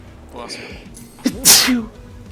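A single sharp sneeze bursts out close by, with a quieter breath or murmur leading into it and a trailing tail, set against gaming background sound.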